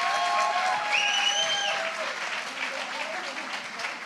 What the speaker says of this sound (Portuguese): Recebam com muitas palmas